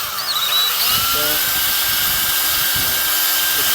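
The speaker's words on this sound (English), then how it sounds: "So I went ahead and worked it with the wire wheel." A wire wheel spun by a power drill grinds steadily against a corroded car part from a Mitsubishi Galant VR4, stripping loose paint and rust in one loud, continuous, close-up whir with no talk.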